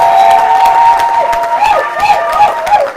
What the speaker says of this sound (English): Clap unto the Lord again.